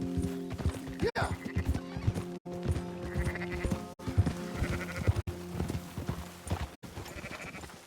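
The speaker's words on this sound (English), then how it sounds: "Fine sheep." Sheep bleat repeatedly in Red Dead Redemption 2, with several wavering calls spread across the scene over a steady clip-clop of horse hooves and no talking.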